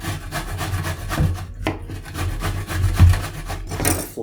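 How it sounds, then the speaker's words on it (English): Courgettes (zucchini) are rubbed against a grater in close, repeated scraping strokes, a continuous rasping rhythm that stays fairly loud throughout. "And you can grate that, Ethan."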